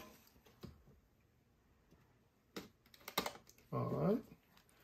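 A knife slicing open a cardboard box package for a PS5 God of War controller: a few short scrapes and cuts, then a louder tearing stroke near the end, close and fairly quiet.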